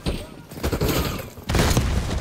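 Gunfire in Call of Duty: Black Ops 6 comes in dense, loud bursts of close shots with heavy thumps, while a voice talks over the action.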